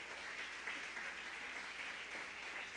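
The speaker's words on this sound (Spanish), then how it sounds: "A su nombre, dele palmas al Rey de Reyes" A church congregation clapping hands together during a sermon, a steady, even wash of many palms, fairly faint and distant, with no talking over it.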